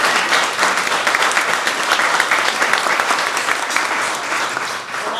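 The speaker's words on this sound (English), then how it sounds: "let's have a round of applause for our great panel" A crowd applauds a panel at a lunch seminar, dense clapping that holds strong for several seconds before easing slightly at the end.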